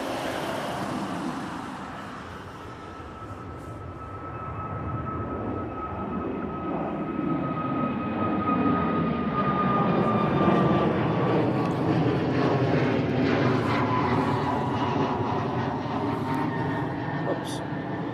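Antonov An-124 heavy cargo jet taking off at East Midlands Airport, a loud sustained engine roar with a rising whine that swells and holds steady throughout, heard from the airfield boundary with people talking over it.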